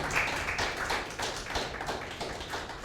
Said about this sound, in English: with a big round of applause, I want to welcome once again Mr. and Mrs. Amponsa